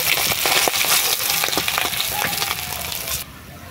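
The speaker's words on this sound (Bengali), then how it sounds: "মাছগুলো লাল লাল করে ভাজা হয়ে গেছে, এবারে তুলে নেব।" Sea fish (sona kanta) frying in hot oil in a pan gives a loud, crackling sizzle with sharp pops and spatters, steady until it suddenly drops away near the end.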